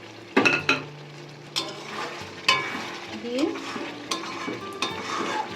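Fried chicken pieces with garam masala stirred in hot oil in a pan: a spoon clanks and scrapes against the metal in irregular strokes over a low, continuous sizzle, with a brief quiet voice in between.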